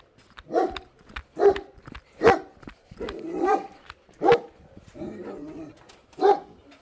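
A dog barks outdoors at a home near the front line in the Beryslav area, six or seven separate loud barks spaced about a second apart, with no talk over them.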